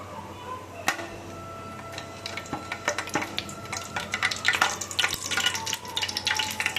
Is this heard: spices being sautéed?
yes